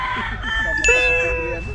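A rooster crows loudly and close by, its drawn-out call over steady background noise and other fowl sounds.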